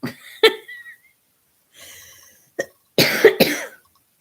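Several coughs come in separate bursts with short quiet gaps, ending in a harsher, louder double cough; close and dry.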